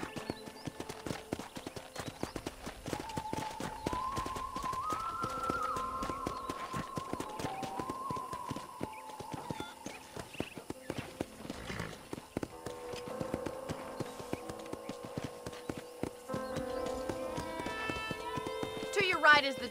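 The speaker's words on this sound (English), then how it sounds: "let's see if you can still ride a horse" Horse hooves clip-clop steadily while riding through a ranch setting in Red Dead Redemption, an even galloping rhythm under game voices and music, with a neigh near the end.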